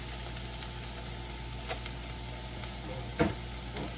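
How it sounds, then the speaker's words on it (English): Shrimp with paprika, crushed peppers and seasoning sizzle softly in a pan, a quiet steady frying hiss broken by a couple of clinks and one louder scrape of a utensil stirring. "All right, let's stir that around."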